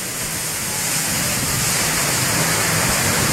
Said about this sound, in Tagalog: Parang fountain na bumulwak ang tubig mula sa ginagawang tubo